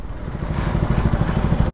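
A BMW S1000RR sport motorcycle engine idles close by with a low, lumpy, throbbing burble that holds steady for a couple of seconds.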